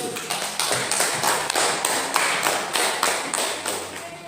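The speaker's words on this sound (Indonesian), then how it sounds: "beri tepuk tangan untuk kelompok 1" Classroom applause for a student group, a steady patter of many hands clapping together across the room, fairly loud and sustained with no talk over it.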